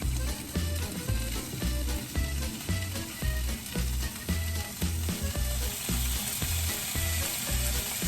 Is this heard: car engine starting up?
no